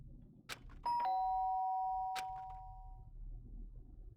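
A two-tone chime from a doorbell in the video game Danganronpa: Trigger Happy Havoc, a clear ding-dong that rings out and slowly fades over a quiet room tone with faint clicks.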